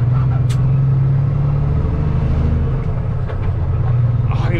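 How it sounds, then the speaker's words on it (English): A heavy truck's engine rumbles loud and low as it strains to pull away from a stop, a steady deep drone with faint clatter over the top. "It takes so much energy for this truck to start moving."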